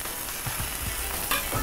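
Chopped onions fry in a small amount of oil for a quick steak dish, giving a soft, steady sizzle with light stirring scrapes and nobody talking.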